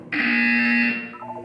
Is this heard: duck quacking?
no